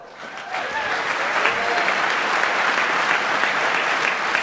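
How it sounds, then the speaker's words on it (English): A hacker conference closing ceremony crowd applauds a finalist team, clapping building quickly then holding steady and loud, with a few voices faintly audible underneath at the start. "A big applause for them."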